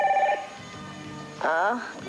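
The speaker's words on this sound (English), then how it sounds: "maybe you should get the phone." A telephone rings in a house during a 1989 soap opera scene, a short electronic ring burst at the start and another near the end, close and fairly loud.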